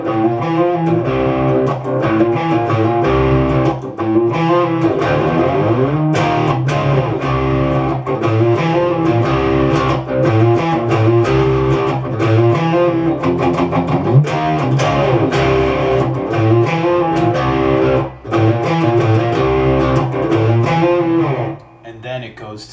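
Electric guitar plays the intro riff of a song at a slowed tempo, with distorted, sustained chords and palm-muted notes on the lowest string, loud and close throughout before cutting off near the end.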